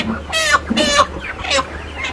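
Chickens at a poultry market give three quick, loud clucking squawks close by over a low background hum.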